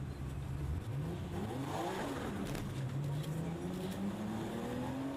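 A Toyota Supra launches hard on a UK public road, spinning all four sticky tires. The engine climbs through rising revs with quick upshifts, heard from inside at moderate volume.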